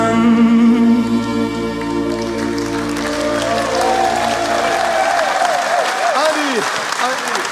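A studio audience at a Schlager TV show breaks into loud, sustained applause as a song's final sung notes fade, with the clapping swelling and carrying on alone while voices rise over it toward the end.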